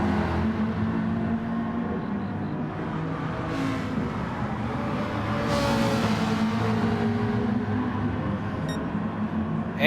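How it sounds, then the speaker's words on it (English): A Ford Mustang GT4 race car approaches at Spa in a racing game, its engine a loud, steady drone joined by other GT4 cars, with swelling passes rising briefly above the continuous engine noise. "And a Mustang coming."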